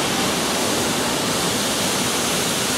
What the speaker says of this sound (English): This is the second largest waterfall in Thailand.